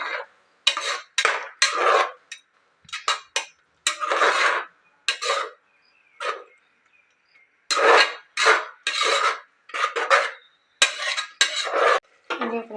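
A tomato bath mixture being stirred and fried in a pan, heard as bursts of loud metal scraping and clattering from a spoon against the pan, separated by short quiet gaps, with no talk.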